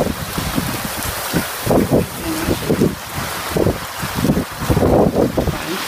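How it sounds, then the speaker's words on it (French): A violent, gusty winter storm in Montoison: wind buffets hard in surging bursts with rain hissing steadily underneath, loud and close. "avec la pluie qui s'en va et le vent aussi"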